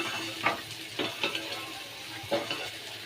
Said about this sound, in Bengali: এই ভাজাটা হয়ে এসছে